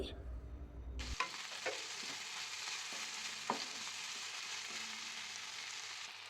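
A small piece of ginger and garlic fry in a hot pan with a steady bright sizzle, a few soft clinks of a spoon breaking through, no voices.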